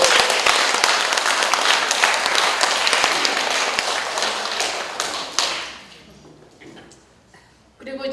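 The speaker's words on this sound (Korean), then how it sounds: "이럴 때는 격려 박수도 한번 보내주세요." Loud, sustained applause from an audience at a talk on political participation, dense clapping for about five seconds before fading to scattered claps and quiet.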